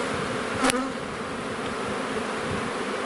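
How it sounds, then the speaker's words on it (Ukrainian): Buckfast honey bees buzz steadily at an open hive in Poltava region, a dense, even insect drone with one brief louder pass close by. "Так що бджілки працюють."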